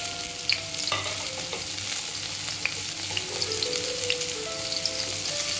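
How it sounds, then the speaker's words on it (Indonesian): Sliced garlic, shallots and red chili stir-fry in hot oil, a continuous close sizzle with repeated scraping of the spatula as the pieces are turned, and an occasional clink of metal against the pan. "panaskan minyak, diaduk-aduk, masukkan irisan bawang putih, bawang merah, dan irisan cabai merah"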